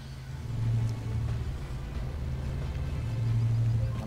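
Engine of the Leichtpanzer K21 XC8 tank in Armored Warfare, a steady low diesel rumble with slight revving swells, droning continuously at moderate volume with no voices over it.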